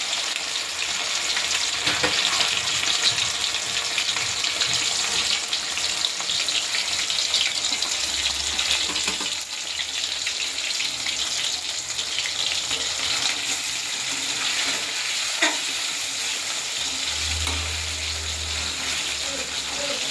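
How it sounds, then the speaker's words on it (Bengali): Chicken pieces frying in a pan for chilli chicken, a steady broadband sizzle filling the whole stretch at close range, with occasional low clunks and a faint voice now and then beneath it. "এই দেখো ভাজবো এখন চিকেনটা, দেখতে পাচ্ছ।"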